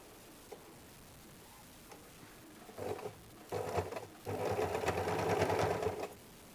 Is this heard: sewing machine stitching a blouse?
yes